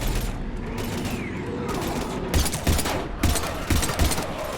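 Sustained gunfire from a Mass Effect 3 combat scene, with repeated bursts of shots cracking through a dense, noisy battle mix that swells in loudness toward the end.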